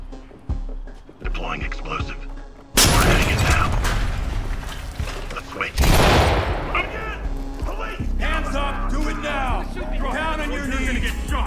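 In the tactical shooter Ready or Not, a C2 breaching charge detonates with a loud, close blast followed by a second booming flashbang burst, amid radio chatter and shouted commands.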